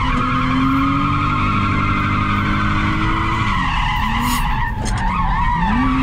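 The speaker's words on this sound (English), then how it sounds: "It's got a bit of a weird tyre squeal." A drift car's engine roars steadily at high revs during a state-series competition round while tyres squeal and skid continuously, loud and close, with the pitch shifting as the car slides.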